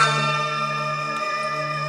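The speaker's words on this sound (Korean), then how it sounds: "시민들이 성덕대왕 신종의 울림을 직접 듣는 것은 드문 일인데요" The Divine Bell of King Seongdeok, a great Korean bronze temple bell, rings with a loud, sustained hum of steady, layered tones that hang on without fading across the whole stretch, with no voices present.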